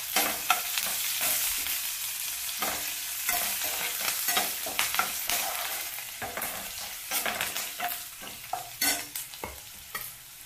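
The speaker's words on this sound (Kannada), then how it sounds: "ಈ ಈರುಳ್ಳಿ ಹಾಕ್ತಾ ಇದ್ದೀನಿ, ಕರಿಬೇವು ಹಾಕ್ತಾ ಇದ್ದೀನಿ." Sliced onion and curry leaves fry in hot oil with a steady crackling sizzle, punctuated by sharp spatter pops and stirring scrapes that grow more frequent toward the end, with no voices.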